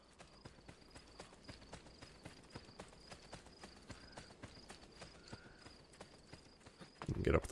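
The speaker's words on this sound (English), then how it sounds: "I could probably jump for my horse to get up." Steady rhythmic clip-clop of horse hooves from the Assassin's Creed: Brotherhood video game, moderately close and continuous, ending with a louder rumble of movement.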